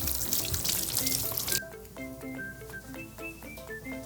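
Tap water rushing over tomatoes being washed in a kitchen sink while preparing a tomato and egg stir-fry, a loud, steady splashing for under two seconds that cuts off abruptly, followed by soft melodic tones.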